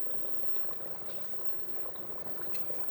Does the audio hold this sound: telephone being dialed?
no